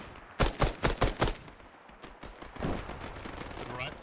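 Gunfire in ArmA 3 comes as five or six sharp, fairly close shots in quick rhythmic succession, followed by a softer lingering rumble of distant fire with a faint voice beneath.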